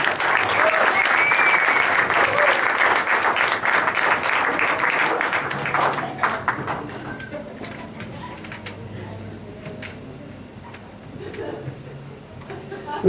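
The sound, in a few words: audience applause for violinist at live concert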